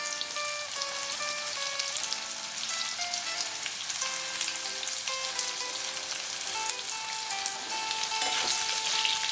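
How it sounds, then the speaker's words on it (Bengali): Potatoes fry in oil seasoned with bay leaf, whole dried red chilies and panch phoron, giving a soft continuous crackling sizzle beneath a melodic background tune. "এখন আমি আলুগুলো দিয়ে ভালো করে ভেজে নেব।"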